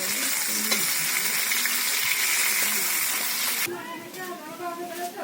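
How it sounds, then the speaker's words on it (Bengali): Potatoes fry in oil with a loud, dense hiss close by for several seconds. The hiss then drops off abruptly, leaving quieter bubbling and scraping with faint voices in the background. "আলু ভাজা এবার শেষ হয়ে গেছে পিসি এবার পটল ভাজবো"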